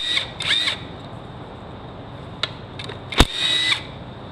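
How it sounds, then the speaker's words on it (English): Impact wrench with a 1/2 inch socket at work on a 1977 Mercury wagon, giving short whirring bursts and sharp clacks, one brief pause and then a stronger hammering burst, close and fairly loud. "Now I need a 1/2 inch and an impact."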